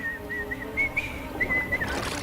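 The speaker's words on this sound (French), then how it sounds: "Je vais siffler la bonne mélodie et tu vas disparaître." Someone whistles a short melody of a few clear, pure notes that rise and fall over low background noise, with brief pauses between phrases.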